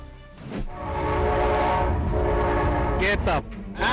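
A train sounds its horn at a level crossing in Netcong, New Jersey, where an SUV knocked down the gate: a loud, sustained, harmonic blast over rumbling rail noise, cut by short sharp bursts near the end.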